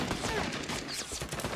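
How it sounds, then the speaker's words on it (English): Automatic grease gun fire in the Vietnam War shooter Rising Storm 2: Vietnam, dense overlapping shots in a chaotic battle, loud and continuous for under two seconds with no voices. "That's a grease gun."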